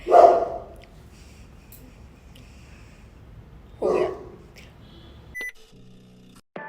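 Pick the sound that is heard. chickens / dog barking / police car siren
dog barking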